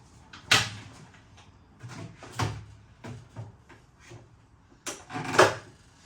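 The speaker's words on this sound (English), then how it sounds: "You're going to want to open the doors on your perfect draft machine." Doors of a Philips Perfect Draft home beer machine being opened, giving a few separate clunks and clicks of cabinet-like doors at close range, with brief rattles and no talking.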